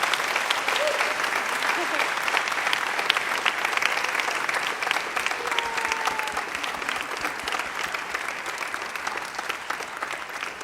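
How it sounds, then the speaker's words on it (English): A school variety show audience applauds students on stage, a dense, steady wash of clapping from many hands that holds at an even level throughout. "Please give them a huge applause, and you guys as well."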